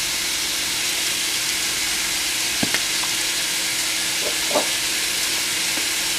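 Chicken thighs seasoned with onion powder, pepper and garlic sear in a hot pan, giving a loud, steady sizzle and hiss with a few faint clinks from a utensil.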